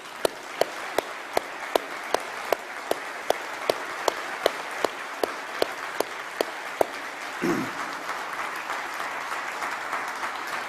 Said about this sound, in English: you will applaud them now